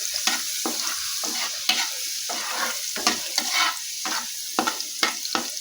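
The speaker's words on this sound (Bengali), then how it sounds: "লঙ্কাটা রসুনটা একটু নাড়াচাড়া করে নিচ্ছি" Dried red chilies and crushed garlic cloves frying in hot oil for a drumstick stir-fry, with a loud, bright, continuous sizzle broken by irregular stirring scrapes and spatula taps, close up.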